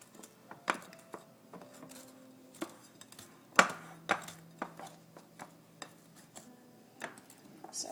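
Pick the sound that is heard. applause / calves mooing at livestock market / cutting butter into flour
cutting butter into flour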